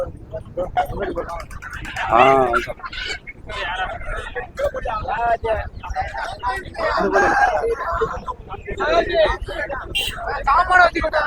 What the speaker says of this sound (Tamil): கிண்ணி கோழி